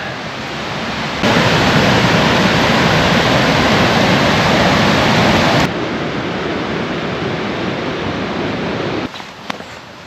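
Steady roar of the River Derwent flowing near Ladybower reservoir in winter, loud broadband water rush that jumps louder for several seconds then eases back, with a few faint knocks at the end.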